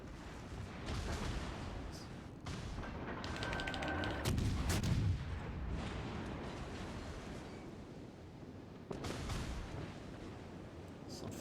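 Warship guns firing in World of Warships Legends, heavy booming salvos and rumbling detonations spread across several seconds, with one sharp louder blast near the end over a continuous dense battle roar.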